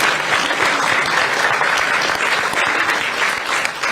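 Applause breaks out at an event for the Wisconsin state budget, a dense, steady clapping from a crowd that holds at full strength for about four seconds.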